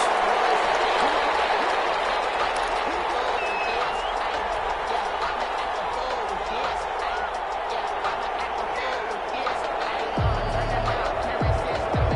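A stadium crowd roars steadily before a Kansas City Chiefs versus Detroit Lions football game, a dense, continuous wall of cheering and applause with a few thumps near the end.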